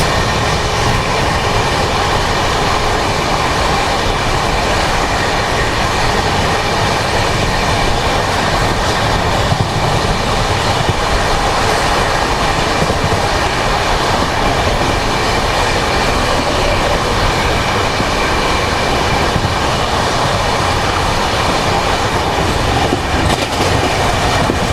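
The Tirumala Express 18522, running from Guntakal to Visakhapatnam near Kondapuram, rolls on the rails with a loud, unbroken rumble of wheels and wagons and faint clickety-clack throughout.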